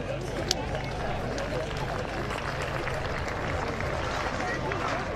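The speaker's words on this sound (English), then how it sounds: "With a warm applause from the crowd and a white flag" Applause and crowd noise roll steadily through a stadium after a men's shot put throw at an evening athletics meeting in Cork, with a commentator talking over it.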